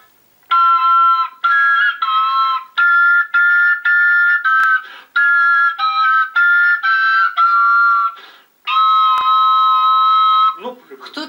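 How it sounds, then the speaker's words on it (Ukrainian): Bright, steady whistle-like tones from Ukrainian folk whistles and flutes (sopilka and svyshchyky) play a tune in short phrases, some held long notes, loud and close, with a brief rustle at the end. "Тут різноманітні сопілки, свищики, зозульки, пищалки."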